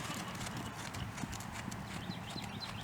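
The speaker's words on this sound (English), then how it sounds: "Heads up, other horses are running." Horses move around an arena during an intermediate riding lesson, their hooves clip-clopping in a steady, moderately faint rhythm with an occasional whinny and no talk over them.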